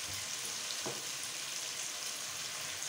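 Spiced mash daal with salt and red chili fries in a pan with a faint, even, steady sizzle and one brief soft knock near the start, no talking.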